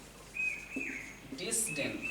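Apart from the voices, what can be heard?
Asian koel calling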